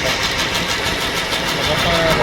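A lathe spins a wooden thavil drum shell, giving a steady motor hum with a fast pulsing rhythm, and a person talks over it.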